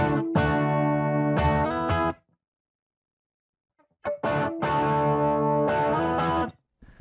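Loud, overdriven electric guitar chords through a Dumble ODS 50-style amp model on a Spark amp ring out in two bursts separated by a couple of seconds of silence, warm and sustained with a crisp amp tone.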